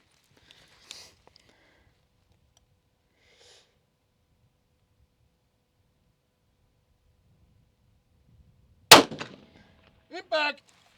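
A single sharp rifle shot at long range, with the bullet striking a steel target, cracks loud and sudden out of near silence; brief speech follows just afterward.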